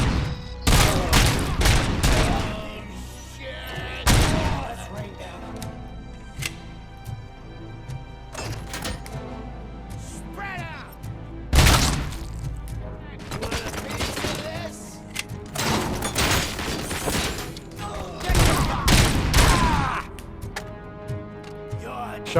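Gunfire bursts in a firefight in the video game RoboCop: Rogue City, with loud clustered volleys and single heavy shots separated by brief lulls, alongside enemy shotgunners.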